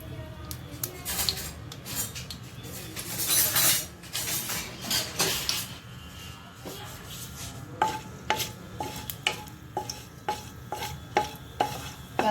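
Bay leaf, cardamom, cloves and cinnamon going into hot oil, with a soft steady sizzle under close clinks and scrapes of a spoon on the pan, building to a run of regular metallic taps toward the end.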